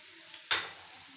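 White cumin seeds hit hot oil after chopped garlic, setting off one sudden sharp sizzle burst that fades into a softer crackle in a quiet home kitchen.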